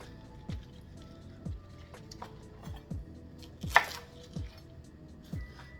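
Knife slicing green onions on a cutting board, about six evenly spaced firm chops roughly one per second, close and clear, with a faint scrape midway and no talking.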